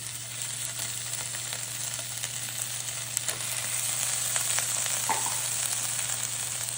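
Meatballs fry in a pan over medium heat with a steady, close sizzle and crackle, occasional louder pops and a faint stir near the end.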